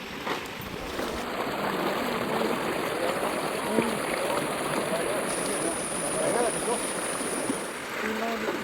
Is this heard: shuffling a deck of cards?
no